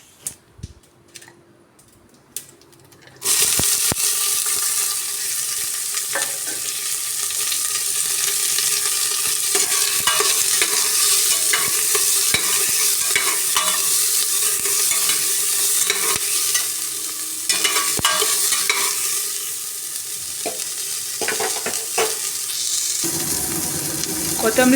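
Chopped onion, green chili and curry leaves frying in hot oil while being stirred, a steady loud sizzle starting after a quiet few seconds, with scraping and clinks of the spoon throughout.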